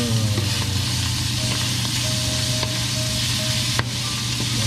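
Meat frying in a pan, a steady close sizzle with faint scraping and clinks as it is turned, no talking.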